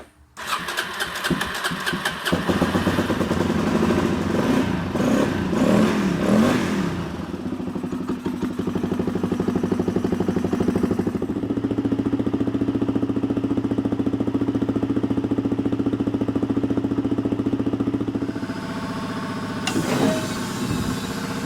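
A motorcycle engine, apparently a DRZ400 or WR450F dirt bike, cranks and catches, then settles into a loud, steady idle as it warms up, with a revving flutter early on and no talking.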